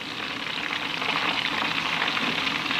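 Onions sizzle and fry in hot oil for Transylvanian Torda-style onion roast, a steady dense crackle that stays close and even throughout with no talking.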